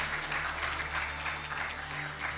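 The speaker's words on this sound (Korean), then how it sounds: "큰 박수 부탁드립니다" Steady applause from a lecture audience in a Yeongdeungpo peace event hall, a dense continuous clatter of clapping hands filling the room, moderately loud and unbroken throughout.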